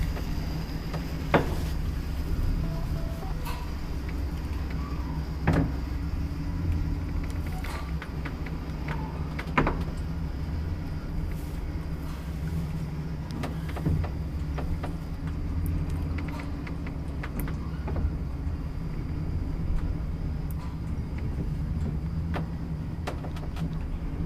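A 1957 Kone traction elevator in a Helsinki apartment building runs steadily, with a constant low mechanical hum and rumble and occasional faint clicks and knocks from the car and doors, close and moderately loud.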